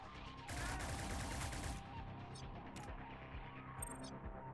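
A quick burst of suppressed automatic fire from a silenced SMG in the video game Cyber Knights: Flashpoint, rapid muffled shots lasting about a second, followed by quieter game ambience and small clicks.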